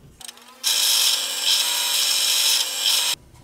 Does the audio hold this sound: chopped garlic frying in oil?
no